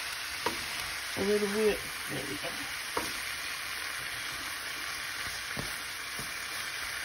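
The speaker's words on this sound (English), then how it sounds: "Let it saute and marinate and the rice warm up." Fried rice sautéing in a pan, a soft continuous sizzle with a few spoon taps and scrapes, while someone briefly speaks near the start.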